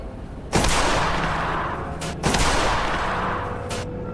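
A large caliber rifle fires bullets into a gelatin block at nearly 2,300 feet per second; two loud, booming shots ring out with long echoing tails, a softer crack following each.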